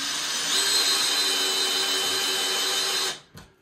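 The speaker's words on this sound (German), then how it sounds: "Und schrauben hier jetzt sie fest." Power tool driving the wall mount screws for a Dyson V15 Detect cordless vacuum, a steady high whine running continuously for about three seconds before cutting off, with a short faint rattle after it; loud, close and alone.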